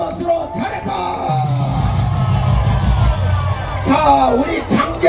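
Outdoor rally crowd in Gwanghwamun, Seoul, cheering with shouts and whoops over a rumbling background, voices rising in bursts near the end.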